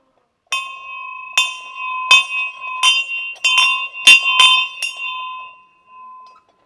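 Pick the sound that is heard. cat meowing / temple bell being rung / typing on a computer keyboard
temple bell being rung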